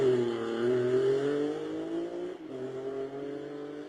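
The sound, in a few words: BMW rally car with Jaguar engine racing uphill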